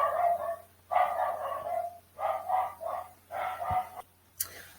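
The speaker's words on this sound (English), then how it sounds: "That was my dog barking" A pet dog barking indoors in a string of about five loud, close barks with short pauses between them, some stretched into yelping howls.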